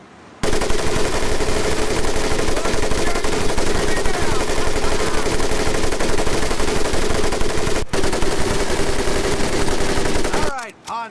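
Heavy caliber machine gun in a World War II video game fires one loud, unbroken burst that lasts about ten seconds, with a short break near the end before it stops.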